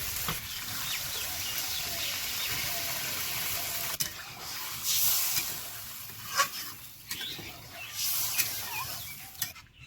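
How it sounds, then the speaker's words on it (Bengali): Shol fish from a village canal frying with spices in a pan, a steady sizzling hiss throughout, rising in bursts as broth goes in, with a few louder splashy spurts near the end. "মাছটা ভালো করে কষে নিয়েছে এবার ঝোল দিয়ে দিব"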